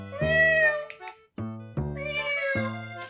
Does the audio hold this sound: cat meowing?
yes